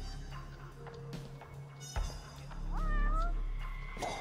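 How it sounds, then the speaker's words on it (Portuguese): A cat meows close by in a cat café scene in the video game Judgment, giving a drawn-out, wavering meow near the end over low background hum and scattered game sounds. "Tem um gato miando aqui do meu lado"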